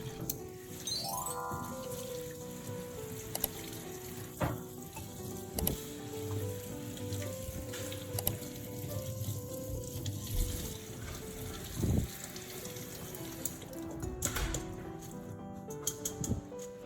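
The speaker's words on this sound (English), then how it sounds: "take it out and rinse it again with water" Water runs and splashes steadily with light clattering and handling noises as mint leaves are rinsed under a tap, with no talking.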